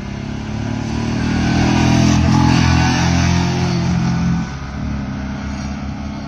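Yamaha MT-15 and Royal Enfield Bullet 350 motorcycles pulling away at the start of a drag race, a loud, steady engine drone that swells and peaks mid-way before easing slightly, with no talking.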